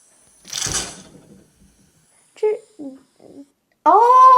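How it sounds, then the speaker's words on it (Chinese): A refrigerator door swings shut with a single close, muffled thump and brief rattle. Faint sounds follow, then a voice speaks. "关冰箱门"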